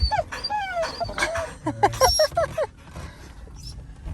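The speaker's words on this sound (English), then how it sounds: "They're Australian Shepherds too, so they're herding dogs." Australian Shepherd dogs whimper and whine up close in high, wavering cries, with short yips scattered in between.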